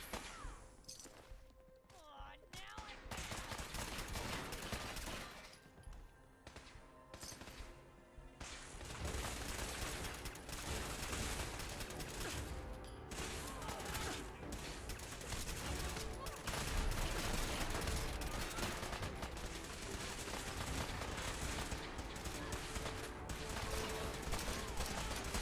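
Video game gunfire crackles dense and continuous, rapid shots layered under occasional talk and game sounds throughout.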